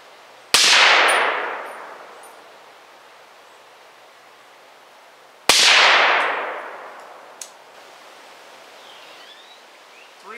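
Two loud supersonic rifle shots fired through a Dead Air Sandman-S suppressor, each a sharp crack followed by a long, fading reverberant tail, spaced about five seconds apart outdoors.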